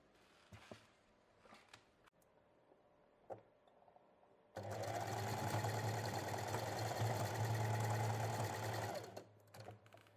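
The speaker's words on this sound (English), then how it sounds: "I place it here on one side of the straps, and then I sew here a few stitches." A sewing machine runs steadily for about four seconds as it stitches a strap onto fabric for a simple top, a loud continuous motor hum and rapid needle chatter, with quiet handling clicks before and after.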